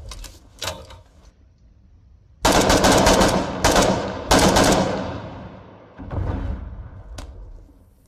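Light machine gun fire in the Foxhole war game: a few faint distant shots, then three loud close bursts of rapid rattling fire, followed by a softer burst and a single late shot.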